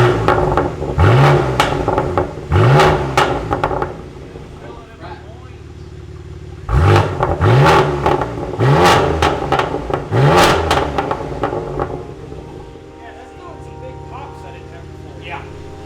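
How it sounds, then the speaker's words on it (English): A BMW G80 M3 with PLM high-flow catted downpipes and its exhaust valve open, revving hard in two loud bursts of several sharp blips each, with a steady idle rumble between them and voices talking over it. "For high flow, catted downpipes, that's so loud."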